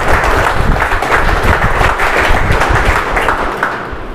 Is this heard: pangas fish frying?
no